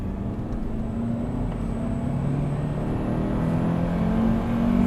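Second-generation Honda CR-V accelerating at full throttle, a steady engine drone that climbs gradually in pitch and swells slightly louder toward the end, with continuous road and wind noise and no talking.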